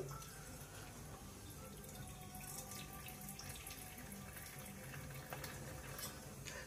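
Water being drained off freshly pressure-cooked lentils for tomato dal: a quiet, continuous pouring and splashing like a running tap, steady throughout with no talking.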